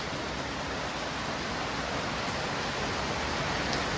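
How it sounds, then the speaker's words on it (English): Rain falls steadily outside as a dense, even hiss that holds unchanged from start to end, fairly loud and with no voices over it. "It's raining outside"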